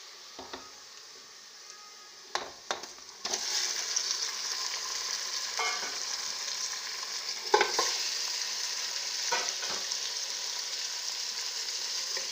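Beef pieces for nahari fry in a pot while being stirred, with a loud, continuous sizzle broken by repeated scraping strokes of the spoon.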